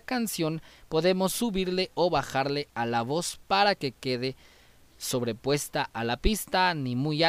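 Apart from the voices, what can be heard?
No distinct noise like a dog, phone or traffic.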